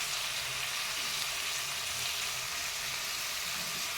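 Bata fish pieces fry with red chilli, cumin and coriander powders in an oily pan, with a dense steady sizzle that holds at an even level throughout and no voices.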